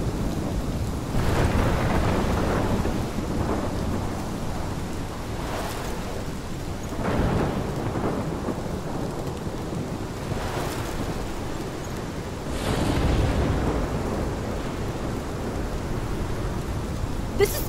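A thunderstorm in the video game Life Is Strange: heavy rain pours steadily while several deep rolls of thunder rumble and swell at intervals, loud and close, with no voices.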